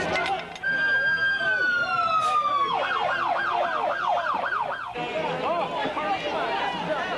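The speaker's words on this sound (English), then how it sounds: "you're hearing the sirens and this rush of people" Police sirens wail near a crowded beach, a long rising wail shifting into a fast yelping warble, loud and close, with a crowd chattering underneath.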